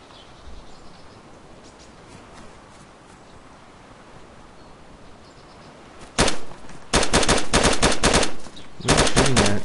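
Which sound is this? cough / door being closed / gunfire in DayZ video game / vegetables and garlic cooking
gunfire in DayZ video game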